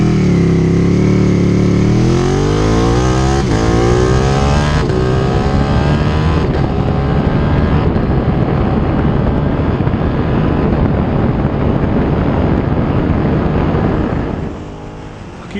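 A Ducati 959 Panigale sport motorcycle accelerates hard on the street, its engine rising steadily in pitch through the revs with a loud, aggressive intake roar. Brief dips mark quick gear changes, and the roar falls away near the end.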